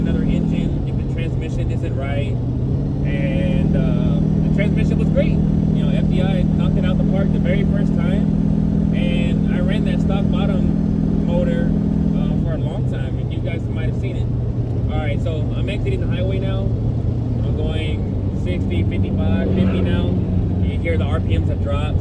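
A 1400hp turbo Corvette with a TH400 transmission rumbles along a street, its deep engine note shifting pitch as revs drop and settle, with someone talking over it throughout.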